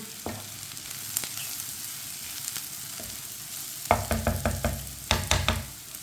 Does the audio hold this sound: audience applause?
no